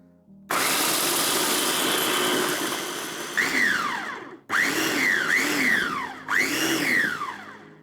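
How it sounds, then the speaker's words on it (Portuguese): A food processor grinds toasted walnuts into coarse crumbs in loud bursts: one long continuous run, then three shorter pulses with rising whirring motor pitch, each ending abruptly, no voices. "Com as nozes já torradas, agora eu vou triturar até obter uma farofa."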